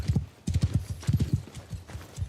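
Cavalry horses' hooves clopping in a war video game as riders dismount, with quick clustered bursts of hoofbeats that come close and loud in irregular rhythm.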